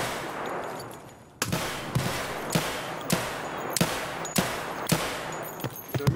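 Pistol shots in the video game Escape From Tarkov, fired from a small, poor-quality handgun: about a dozen sharp, loud reports in an irregular series after a quieter opening stretch, with no talk.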